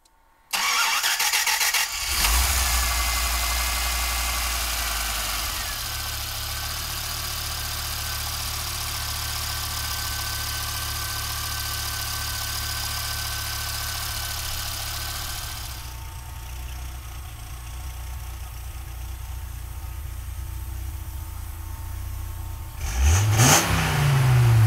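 A 1995 Dodge Viper engine cranks and fires up loudly, then settles into a steady rumbling idle that holds for a long stretch before a sharp rev burst near the end.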